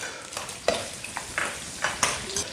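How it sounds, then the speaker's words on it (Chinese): Ginger, scallion and fermented black beans stir-fried in rendered lard, with a soft, steady sizzle and a few sharp spatula scrapes and clinks against the wok. "现在下入姜葱和豆豉"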